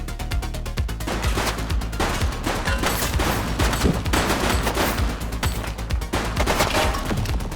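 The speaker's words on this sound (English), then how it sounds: "She's shooting!" Rapid gunfire in a police action video game, The Precinct: dense, continuous bursts of shots crackling close and loud for the whole stretch, with no talk over them.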